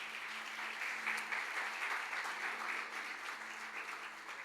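A Sunday school congregation in church gives sustained applause, an even, fairly soft patter of many hands clapping continuously without pause.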